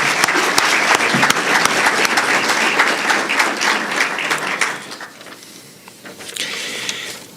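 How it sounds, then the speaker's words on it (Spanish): Audience applause for president Rafael Blanco at a conference lecture on Simón Bolívar: dense, loud clapping from a large crowd that thins and fades toward the end, then briefly swells again. "pido un gran aplauso de reconocimiento"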